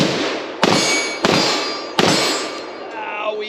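Three loud rifle shots from a SIG MCX Spear crack out at uneven intervals, each followed by a ringing metallic echo across an outdoor range, with a brief voice heard near the end.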